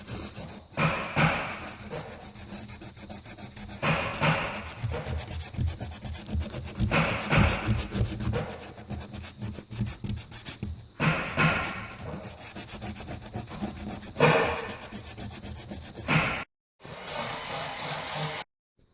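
Steady back-and-forth rasping of 800-grit sandpaper flattening a filled dent on a car body panel, close and loud, in rhythmic strokes with a few brief pauses.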